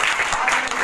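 Congregation clapping at a church gathering during a Sukkot Feast of Tabernacles service, a dense, steady wash of many hands close and loud, with no voices over it.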